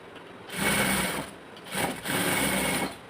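A sewing machine stitches a pocket onto a palazzo in two close, loud bursts of steady whirring motor and needle clatter, separated by a short pause.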